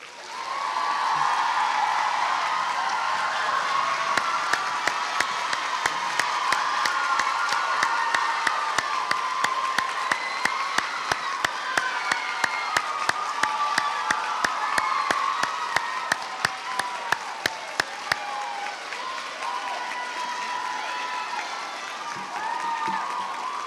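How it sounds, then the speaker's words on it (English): A crowd applauds steadily for several seconds, dense clapping that swells then tapers off into a murmuring room. "we can give these two girls one last round of applause"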